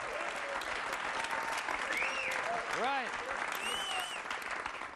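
Audience applause during a comedy monologue, a steady dense patter of clapping with some whistle-like tones rising through it and a voice speaking briefly over it.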